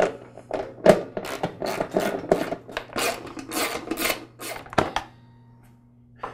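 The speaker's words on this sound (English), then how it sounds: "We'll get started by removing the belt cover." A belt cover comes off a Troy-Bilt Super Bronco garden tiller with close, busy rasping and rubbing of metal and plastic, several sharp knocks and clatters, then a low steady hum once the handling stops.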